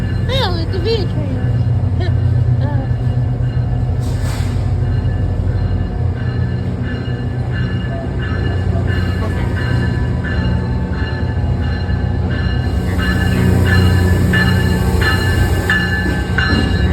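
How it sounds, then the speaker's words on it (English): New York subway V train rumbling past on the metro, a loud continuous roar with rail clatter and brief squeals, heard close from the platform, with people talking over it. "Oh, it's a V train."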